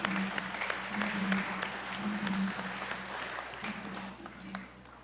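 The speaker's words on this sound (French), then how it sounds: "et nous les applaudissons" A church congregation at a Lenten Sunday mass applauds students, producing a steady, moderately loud wash of hand clapping that lasts throughout and slowly fades toward the end.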